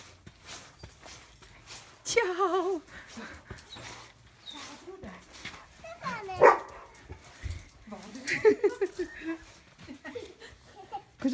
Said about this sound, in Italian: Hai visto il cane?